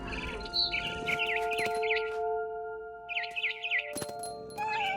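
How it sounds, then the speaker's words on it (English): Chirping swallow-like birdsong in the video game What Remains of Edith Finch, with bursts of quick warbling calls repeating over a steady ambient hum. "Then I heard chirping outside my window."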